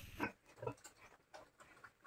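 Pigs on a farm grunting in two short bursts near the start, followed by fainter snuffling grunts, with quiet rural background between them.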